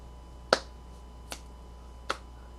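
Three crisp finger snaps recorded for a song, spaced roughly a second apart and standing alone against a quiet background with a faint steady hum.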